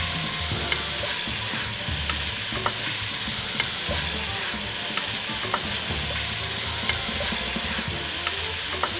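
Seasoned beef browns in a pot for stew, giving a loud, steady, dense sizzle with faint periodic stirring clicks, close and continuous, with no voices.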